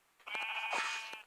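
A single Minecraft sheep bleats once, a clear wavering bleat lasting about a second, close and alone.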